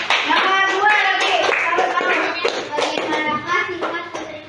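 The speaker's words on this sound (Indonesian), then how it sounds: "Ya, tepuk tangan" A classroom of students claps hands together in a loud, brisk burst of many overlapping claps, with children's voices mixed in throughout.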